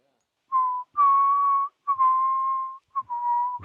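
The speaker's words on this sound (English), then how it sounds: "Just whistling a tune." A person whistles a simple tune in four sustained, steady notes separated by short breaks, clear and close, on a house-building site where a floor is being framed.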